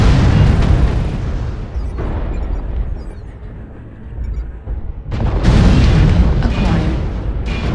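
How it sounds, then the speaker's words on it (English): Video game artillery strike lands as heavy explosions, with loud deep booms at the start and again near the end and a rumbling lull between, mixed with game voices. "Artillery strike online."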